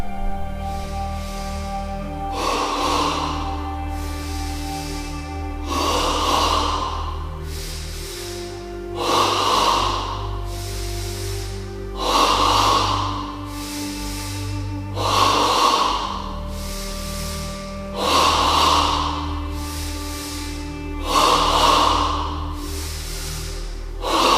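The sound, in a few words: yogic double breathing into the abdomen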